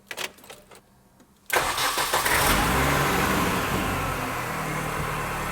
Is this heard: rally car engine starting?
yes